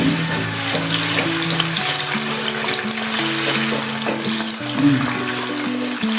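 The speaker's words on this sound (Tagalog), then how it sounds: "Magpiprito na tayo ng ating patatas." Loud, steady sizzling of potatoes frying in hot oil, with a continuous crackle and no talking.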